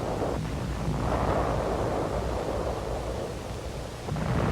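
Heavy rumbling blasts and a roaring, noisy din from a WWII assault with mortars, flamethrowers and grenades on entrenched Japanese positions, sustained and thunderous with a fresh burst near the end.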